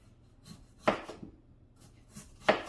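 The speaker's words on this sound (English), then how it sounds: "we're just dicing them up" A knife dicing potatoes into cubes on a cutting board, giving two sharp chopping thuds with faint rubbing between them, close and alone.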